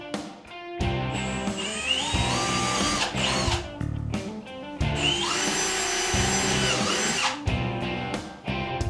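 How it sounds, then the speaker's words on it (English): A power drill whines in repeated bursts while drilling holes in an Otter XT PRO X-Over sled frame, spinning up and cutting out several times, close and loud with brief pauses between runs. "locate the markings under the lip and drill just as we did in the front"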